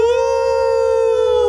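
A person imitates a wolf howl with one loud, sustained, steady tonal call held close to the listener.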